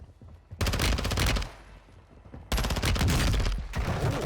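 Automatic TAQ-56 rifle fire in the video game Warzone 2.0, two loud sustained bursts of rapid shots separated by a short pause.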